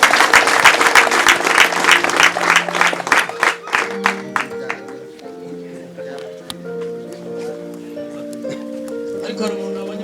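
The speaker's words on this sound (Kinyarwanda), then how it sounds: "So ntabwo twakomera Imana amashyi" An audience claps to praise God at a gathering honouring a 110-year-old in Bugesera, Rwanda, with dense applause in the opening seconds that thins into scattered claps while sustained tonal voices or singing carry on underneath.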